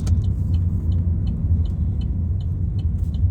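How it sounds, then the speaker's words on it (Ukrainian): City traffic jam in Dnipro: a steady, close engine rumble from cars, with faint, regular ticking above it and no talking. "Пробки, машин куча"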